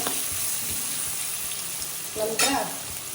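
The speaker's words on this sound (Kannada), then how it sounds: "ಈಗ ಸ್ವಲ್ಪ ಒಗ್ಗರಣೆ ಮಾಡ್ತಾ ಕೆಂಪಾಗಲಿ, ಸ್ವಲ್ಪ ಕೆಂಪಾಗೋ ತನಕ ಬಿಡಿ." Onion sizzles as it fries in hot oil, a steady close crackle broken by a few brief stirring scrapes near the end.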